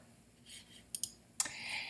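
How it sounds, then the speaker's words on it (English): A Return key pressed on a computer keyboard while editing a picture in Google Drawings: a couple of quick, light clicks followed by one sharper keystroke, close and fairly quiet, with no talking. "I press Return on my keyboard"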